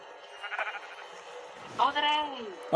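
Sheep bleating on a farm near a fence, several wavering calls, the clearest one near the end, heard through steady background noise.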